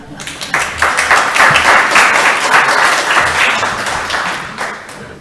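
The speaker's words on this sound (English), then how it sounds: "So if we could just give them a round of applause for that." A crowd at a national council meeting breaks into loud, dense applause that rises quickly and holds steady for several seconds.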